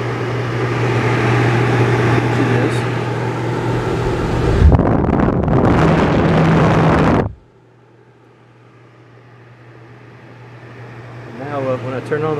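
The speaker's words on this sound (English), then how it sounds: "That should be the evaporator fan only." Evaporator fan motor in a Cavalier Coke vending machine running with a steady hum and airy whoosh, loud for about seven seconds, then dropping to a faint drone as something clicks back in near the end.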